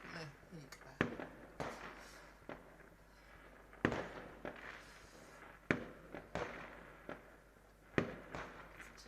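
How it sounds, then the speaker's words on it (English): Fireworks go off on New Year's Eve in a string of sharp bangs at a distance, roughly one every second or two, each followed by a crackling tail, with quiet voices between. "Fireworks."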